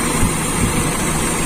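A Toyota Kijang Super engine idles with a carburettor mixture being adjusted, giving a steady, continuous low rumble close by, unbroken and with no talk over it.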